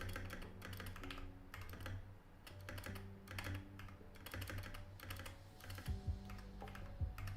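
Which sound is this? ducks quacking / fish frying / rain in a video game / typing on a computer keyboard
typing on a computer keyboard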